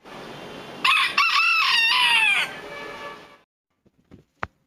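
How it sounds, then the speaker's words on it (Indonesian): A Modern Game Bantam rooster, a small upright show breed, crows loudly once, a long strained call close by, followed by a few faint clucks. "Ayam ini biarpun badannya kecil, tapi suaranya itu keras."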